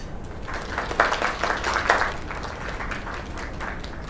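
Steady crowd applause in the PlayStation 4 video game Lake, with a few louder swells of clapping, a continuous wash of hands at moderate distance with no voices standing out.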